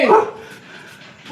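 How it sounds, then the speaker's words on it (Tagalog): A puppy barks, giving one loud close yip followed by softer whimpering yelps and another bark at the end. "Tuta!"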